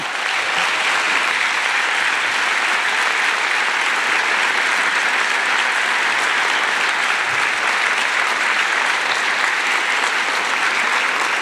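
An audience at a youth salute event breaks into sustained, loud applause with cheering for the Melrose Jazz Trio, a dense, even roar of clapping that holds steady throughout.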